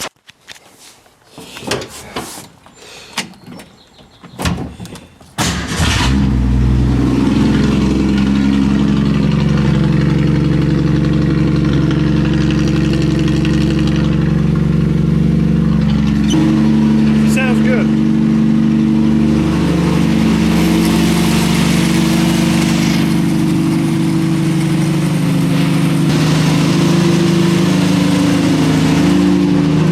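A 1965 Ford Mustang engine cranks with several scraping, clunking starter attempts over about five seconds, then fires and settles into a loud, steady idle up close for the rest.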